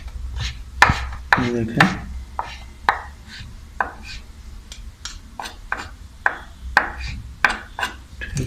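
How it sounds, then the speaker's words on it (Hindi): A knife chops fresh green coriander roughly on a board, giving close, crisp, irregular strikes across the clip, a few quick bursts among them, while a voice speaks briefly. "1 टेबल स्पून हमने हरा धनिया भी लिया, इसको भी हम थोड़ा रफली जो है ना थोड़ा काट लेते हैं"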